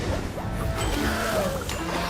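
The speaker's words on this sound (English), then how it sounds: "sending everyone crashing into the water" Cartoon characters crash into water in the animated series Xiaolin Showdown, a loud, dense splashing roar with whooshing bursts that fills the whole clip without a break.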